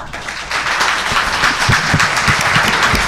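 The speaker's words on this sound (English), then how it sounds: "would you please hold your applause until the end of the debate?" Audience applause at a New Jersey General Assembly candidates' debate, a dense steady wash of clapping that swells after a brief quieter start and holds evenly throughout.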